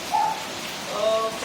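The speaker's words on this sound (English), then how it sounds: "the rain doesn't stop, and the rain is very hard." Heavy rain in Citayam pours down as a dense, steady hiss, with a few bird coos sounding faintly over it.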